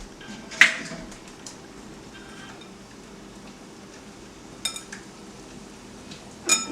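Egg being mixed into a dry veggie burger mixture in a bowl, quiet scraping and soft stirring with a few sharp clinks of utensil against the dish, sparse and close.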